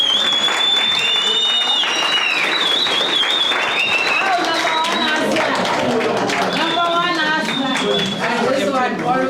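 A round of applause from a crowd at an MTN Y'ello Care celebration, steady clapping running throughout while a loud voice talks over it and whoops rise above.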